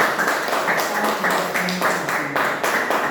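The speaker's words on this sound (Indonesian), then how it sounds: "Tepuk tangan." Schoolchildren in a primary-school classroom clap their hands in a quick rhythmic pattern, several bursts of loud, close clapping repeating across the few seconds, with a faint voice underneath.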